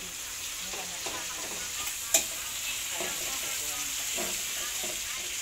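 Marinated meat frying in oil in a pan, with a steady hiss and sizzle throughout, punctuated by soft stirring scrapes and one sharp clink.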